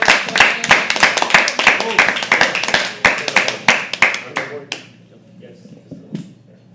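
An audience at a live poetry open mic claps in a rapid, dense burst that thins out and stops after about five seconds, followed by quieter room sounds.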